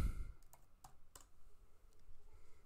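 Several sparse, light clicks come from keys being typed on a computer keyboard, irregularly spaced and faint against quiet room tone, with a brief low thump at the start.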